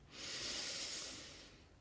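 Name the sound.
breathing in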